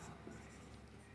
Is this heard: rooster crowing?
no